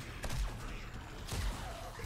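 Gunfire from armor-piercing .40 Desert Eagle rounds in 7 Days to Die: a few sharp shots spaced apart over a busy, noisy game backdrop.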